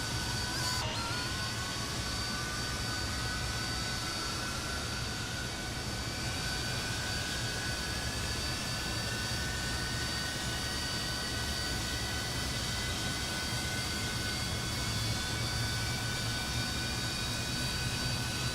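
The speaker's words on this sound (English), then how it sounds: "Rolls-Royce Spey engines." Rolls-Royce Spey jet engines spool up on a Fokker 28 airliner in a flight simulator, a steady roar with a rising whine that climbs in pitch and holds at a constant level.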